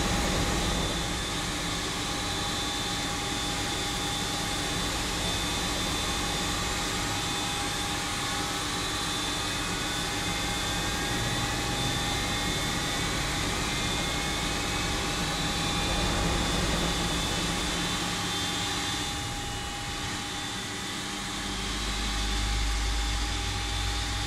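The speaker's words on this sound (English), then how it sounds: "Starting engine 1." Engine 1 of an Airbus A330 spools up at startup, a loud steady jet whine with rising tonal hums layered over a broad roar, continuous and close, with no talk.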